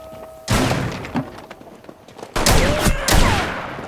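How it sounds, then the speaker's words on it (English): Rainbow Six Siege gunfight with revolvers: loud, close shots and heavy thumps in two clusters separated by a brief lull, with scattered smaller cracks between them. "they're using revolvers"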